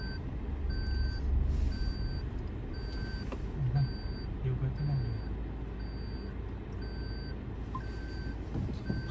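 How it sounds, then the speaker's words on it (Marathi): A car reverses into a parking spot outside a busy temple, its evenly spaced reversing beeps repeating over a low engine idle and surrounding crowd murmur. "आता गाडी इथे पार्किंग करतोय"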